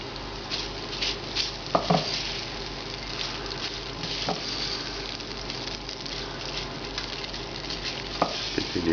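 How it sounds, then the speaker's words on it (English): Spices and onion sizzle gently in a not-very-hot pan for a Goan-style vindaloo curry, a steady soft frying hiss with a few faint stirring clicks and no voices. "Now I'm going to add all of the spices together into this and begin cooking them with the onion."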